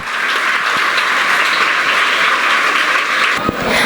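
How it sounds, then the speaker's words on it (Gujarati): Loud, sustained applause fills a hall at a school Teacher's Day ceremony, a dense steady clatter of many hands from start to finish with a brief dip near the end. "એક વખત જોરદાર તાળીઓ થઈ જાય"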